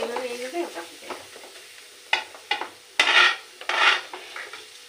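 Ridge gourd and shrimp being stirred and sautéed in a pan: a faint sizzle underneath while a spoon scrapes and clinks against the metal pan in several loud, rhythmic strokes, the later ones harsh and close.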